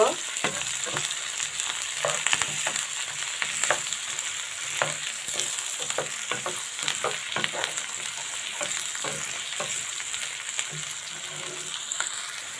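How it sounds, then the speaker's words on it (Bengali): Green chilies with chopped onion and garlic fry in hot oil until browning, a dense steady sizzle with frequent quick stirring scrapes and clicks, close and fairly loud throughout with no voices. "কাঁচামরিচ পেঁয়াজ কুচি রসুন কুচি এগুলো দিয়ে দিব হালকা করে এগুলো বাদামি কালার করে ভেজে নিব"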